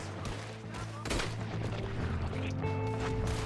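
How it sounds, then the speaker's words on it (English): Gunshots in the video game Red Dead Redemption 2 over steady background music, with a sharp loud shot near the middle among the layered game sounds. "That was a nasty shot."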